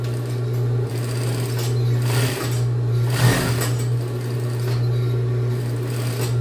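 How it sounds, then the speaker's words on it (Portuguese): A sewing machine runs steadily and loudly, stitching a zipper onto a jacket, with a constant motor hum and even needle rhythm throughout, close up and without talk. "vai poder bater a costura aqui tranquila, sem precisar de tentar unir tudo isso"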